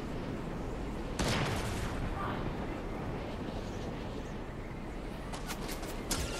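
Bursts of gunfire in Fortnite Zero Build, a loud volley early on and a cluster of sharp shots near the end, over a constant busy game background.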